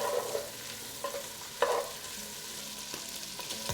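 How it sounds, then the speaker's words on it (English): Bacon frying in melted butter in a soup pot gives a soft, steady sizzle with crackles and a few sharper stirring scrapes at intervals, close and fairly quiet, with no talking. "Let's crisp up our bacon in that butter."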